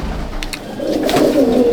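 Old-line Madrasi pigeons coo loudly and close, a deep throaty rolling call that swells in the second half, with a couple of brief higher sounds just before it.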